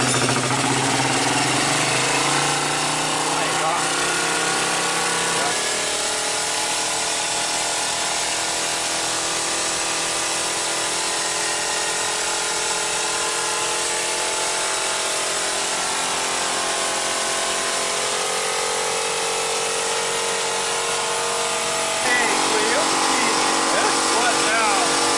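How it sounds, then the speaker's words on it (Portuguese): Homemade air compressor driven by a motorcycle engine, running steadily and loudly close by for the whole stretch with a harsh mechanical drone, a shift in tone around the middle and again near the end. "É uma moto compressor. Motor de moto."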